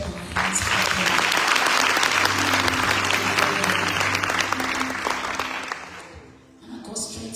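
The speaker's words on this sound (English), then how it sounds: "I want to clap our hands for them" A church congregation claps hands together in a sustained, dense round of applause that stays loud for about six seconds before tapering off, with a voice resuming at the end.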